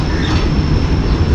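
The Tezgam train passes close along a station platform, its steady, loud rolling roar and wheel rumble filling the whole short stretch with no pauses.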